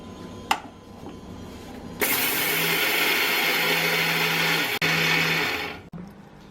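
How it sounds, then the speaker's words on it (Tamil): A mixie grinds cooled red rice into flour with a loud, steady whirring roar that starts abruptly, runs for a few seconds with a brief dip, and cuts off sharply. "இதை வந்து நம்ம மிக்சியில் போட்டு திருப்பிடணும்"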